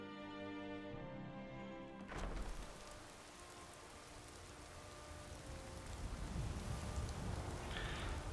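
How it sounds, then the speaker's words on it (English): Rain falls in the video game Skyrim as a steady, soft hiss of drops that follows a short musical passage and swells slightly louder toward the end. "another dreary, rainy day"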